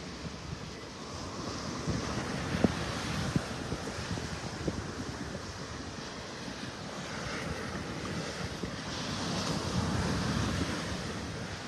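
Ocean waves wash continuously onto Vanderbilt Beach in North Naples, a steady surf roar mixed with wind buffeting the microphone, with no voices.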